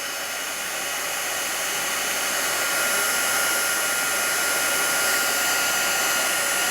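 A handheld heat embossing tool blows steadily and loudly, a constant close whooshing hiss with no pauses or talking, used to melt embossing powder on a paper craft project.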